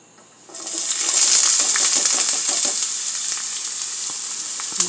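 Chopped onion drops into a hot pan of oil and bursts into a loud, steady sizzle that starts abruptly after half a second and continues with crackling pops, tapering slightly.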